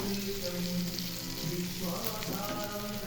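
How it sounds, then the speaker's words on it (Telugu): Fish pieces fry in a little oil in a non-stick pan, a dense even sizzle resembling light rain, close and constant for a few seconds without talk. "చేపలు ఫ్రై"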